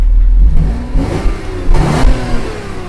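A Lancia car engine revving through its exhaust tailpipe, rising and falling in a couple of close, loud throttle blips with a smooth tone, with no talking over it.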